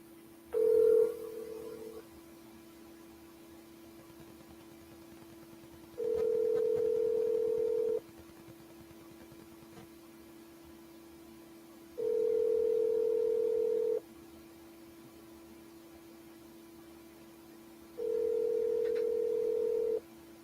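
A telephone ringback tone on a call repeats four times in evenly spaced two-second bursts over a steady low line hum, heard close as if through the handset, with no talking.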